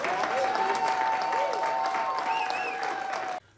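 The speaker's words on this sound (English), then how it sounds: "Everybody give Tarek a round of applause." Applause from an audience fills the space for a few seconds, dense and even, then stops abruptly.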